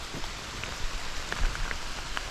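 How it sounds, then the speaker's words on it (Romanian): Rain falls steadily in a forest, a dense close hiss with scattered individual drops pattering on nearby surfaces, with no voices. "Ce să facem dacă mă prinde ploaia?"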